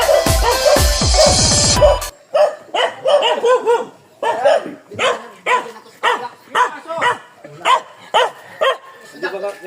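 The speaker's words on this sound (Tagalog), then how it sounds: "yung aso!" A dog barks in a steady run of repeated, loud, close barks around a rural home, following a brief burst of other noise.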